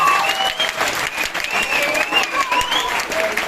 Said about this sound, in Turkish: 10B ve 10C sınıflarını yüksek bir alkış bekliyoruz arkadaşlar.